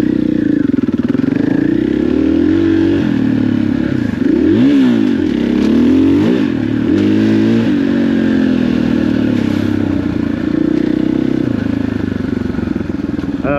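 An off-road vehicle with new suspension cruises around a campsite at the Stonyford OHV area, its engine droning loud and close with rising and falling revs and some rattling clatter throughout.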